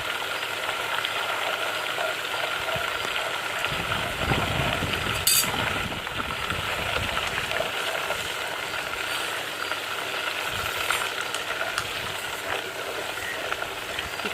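Butter melting into ghee in a covered pan gives a steady, continuous sizzle and fine crackle of bubbling fat, moderately loud and close, with no talking and a few brief louder pops along the way.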